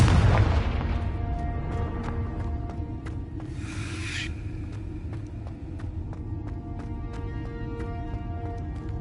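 A Confringo blasting spell goes off in Hogwarts Legacy, one loud booming burst at the start that rolls into a long rumbling tail under steady game ambience.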